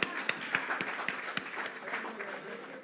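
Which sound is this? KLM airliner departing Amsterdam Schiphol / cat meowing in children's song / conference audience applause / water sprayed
conference audience applause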